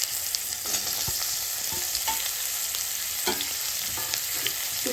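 Onion and capsicum frying in a pan, a dense, steady sizzle with faint scattered crackles and occasional soft stirring knocks, close and unbroken, no talk.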